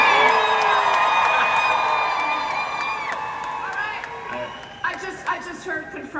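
Convention panel audience at San Diego Comic-Con yelling, whooping and cheering loudly for several seconds, a dense crowd roar with scattered shouts and claps rising again near the end.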